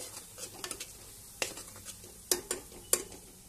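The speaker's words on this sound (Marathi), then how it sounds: "थोडासा मसाला भाजून घ्यायचा आहे, तेलामध्ये परतवून घ्यायचा आहे" Masala for masoor dal is stirred and roasted in oil in a pan, with a series of irregular spoon scrapes and clinks over a faint sizzle, close and fairly quiet, with no talking.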